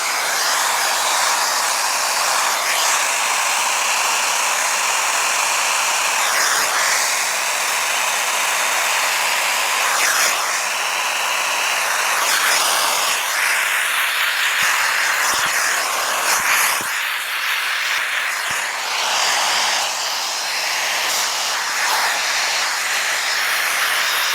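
A hair dryer runs at its highest power and temperature setting, a loud continuous airy roar held close throughout with slight shifts in tone as it moves.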